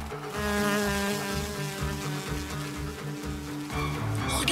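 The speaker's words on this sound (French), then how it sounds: "Regardez, un moustique." Cartoon mosquito buzzing with a sustained, harmonic whine over a rhythmic low pulsing background, fairly close and continuous before tailing off at the end.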